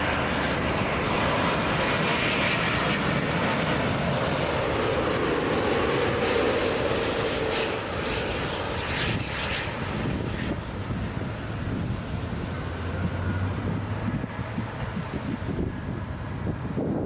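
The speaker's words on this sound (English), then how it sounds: "Beautiful Speedbird. What an aircraft." British Airways airliner passing at a busy international airport at night, its jet engines a broad, steady roar blended with heavy wind buffeting throughout.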